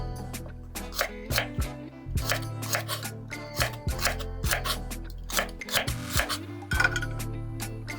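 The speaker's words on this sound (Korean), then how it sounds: "섬유질을 제거한 샐러리를 어슷 썰어 준비합니다" A knife slices de-stringed celery on the diagonal on a board, giving a run of crisp, irregular knocks and clicks, close and fairly loud, over soft background music.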